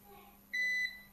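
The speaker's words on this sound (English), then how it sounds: "And it starts beeping, so it doesn't remember the beeping off." A single short electronic beep from an nJoy Cadu 1000VA UPS running on battery, clear and tonal over a faint background hum.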